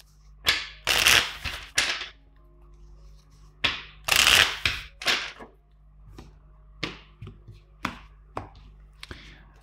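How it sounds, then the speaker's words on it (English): Crisp riffling bursts of tarot cards being shuffled, several quick rounds with short pauses between, close and fairly loud over a low steady hum. "Let's shuffle two more times."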